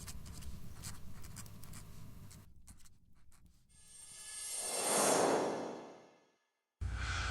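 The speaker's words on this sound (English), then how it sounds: "While Penny writes of courage and kindness" Pen scratching across parchment as a letter is written, soft close strokes at first, followed by a rising and fading whoosh, a moment of silence, then faint sound again.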